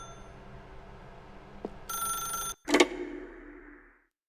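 A telephone rings in The Stanley Parable 2 video game, with a steady electronic bell tone lasting about half a second, a brief cutout, then a louder clattering burst as the receiver is lifted, fading away.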